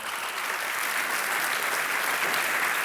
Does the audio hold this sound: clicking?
no